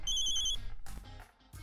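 An electronic phone ringtone chimes with a bright repeating tone, followed by brief softer bursts of the ring pattern.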